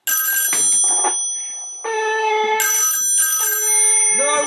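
An old telephone rings beside a robotic-arm answering machine rigged to an Ansafone, giving loud, close, bright electronic trills in repeated bursts with short gaps between them.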